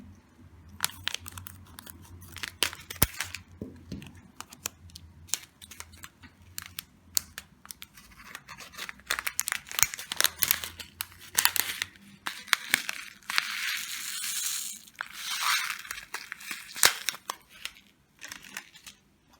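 Plastic bead package being opened and handled, with irregular crisp crinkles, rustles and small clicks close to the microphone, growing denser and louder toward the end with no talking.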